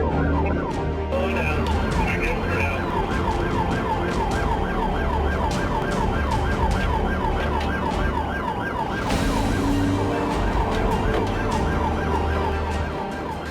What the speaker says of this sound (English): Sirens fill the air as the chase races across the interstate.